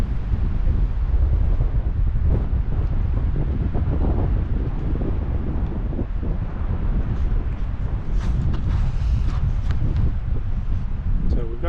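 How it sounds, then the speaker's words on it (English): Strong wind gusts hard against the microphone on a mountain stretch of the John Muir Trail, a loud continuous roar that barely lets up for the whole stretch, with a person talking faintly beneath it. "Oh, man, that wind picked up."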